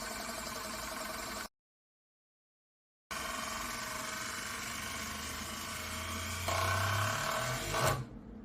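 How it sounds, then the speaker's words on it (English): An Euler's disc spins on its base with a continuous whirring rattle, broken by a short silent gap, then rising in pitch and intensity before cutting off abruptly as it settles. "This disc will spin for over 2 minutes, and although I won't show the full clip, it's interesting to see how the sound changes with time."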